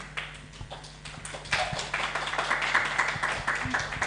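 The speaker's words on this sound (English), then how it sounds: "Have a big round of applause once again" A webinar audience gives a scattered round of applause, its clapping building from a few sparse claps into a fuller, moderately loud patter that continues steadily to the end.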